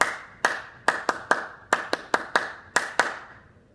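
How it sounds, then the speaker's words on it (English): A group claps a rhythmic sports-chant pattern in unison, with about a dozen sharp, close claps in an uneven repeating rhythm and quiet gaps between them. "Clap it with me."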